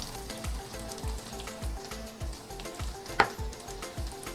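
Mixed seafood sizzles steadily in a hot pan during a stir-fry, close and continuous, with light stirring scrapes and one sharp clink partway through.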